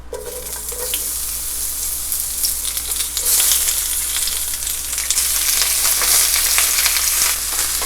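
Vegetables frying in hot oil for a pineapple chicken stir fry, a steady loud sizzle that swells louder midway, with scraping and stirring crackles throughout and no talking.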